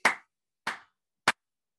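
Three hand claps mark out a syncopated rhythm, the first two evenly spaced and ringing, the last shorter and crisper, heard alone and up close.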